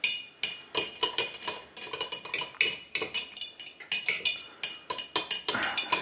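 A spoon scrapes and clinks against a metal pot as oil and wax are stirred together over heat, a steady run of close, rhythmic clicks and scrapes with no voices.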